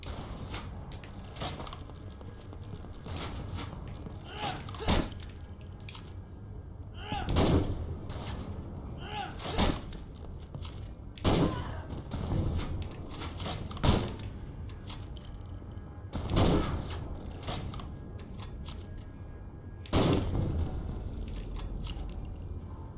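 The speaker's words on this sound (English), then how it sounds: "I'm not used to games where reloading a bolt action is automatic." Gunfire from a bolt-action rifle in the video game Conscript, with sharp shots at intervals of a few seconds over a steady background of battle noise, and automatic reload mechanics between rounds.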